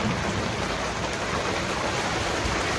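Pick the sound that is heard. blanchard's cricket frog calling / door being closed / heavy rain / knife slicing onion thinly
heavy rain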